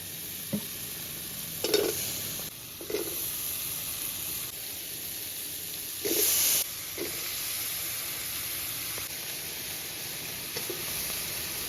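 Potatoes and eggplant frying in spice masala with fish fat, a steady sizzle with a few sharper bursts of hissing as pieces are stirred and scraped in the pan, close and moderately loud.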